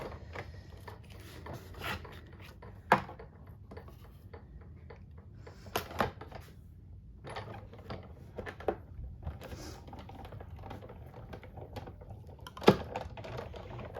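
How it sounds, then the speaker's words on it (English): Die cutting strips of washi tape paper into pennants gives irregular dry clicks and light rasping taps, with a few sharper snaps scattered through a quiet background. "now I'm going to die cut them out to make those pennants"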